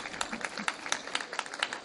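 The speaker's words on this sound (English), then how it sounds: "I think we owe a big applause for that." An audience at the 2014 Karachi Literature Festival claps, a short, close burst of uneven individual hand claps.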